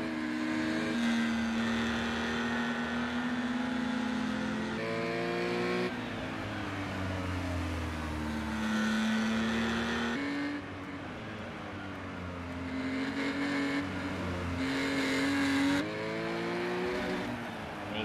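Porsche Cayman Cup race cars at Circuit de Barcelona-Catalunya, a loud, continuous engine drone that climbs and falls through gear changes as the cars accelerate and shift, with no voices.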